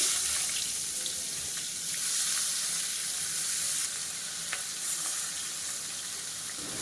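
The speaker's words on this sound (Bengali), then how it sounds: "পেঁয়াজগুলো এবার ভেজে নেব" Four large chopped onions fry in oil over a medium-low gas flame for a mutton and potato curry, giving a steady, close, even sizzling hiss throughout with no talking.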